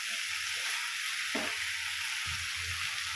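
Fried potatoes going into a pan of jackfruit and prawn curry, giving a steady sizzle with soft stirring and light scraping from the pan throughout.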